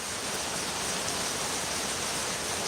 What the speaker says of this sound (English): The sound of rain is so relaxed.